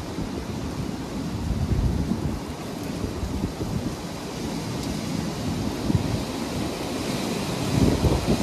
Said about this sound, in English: we are definitely within the grasp of this storm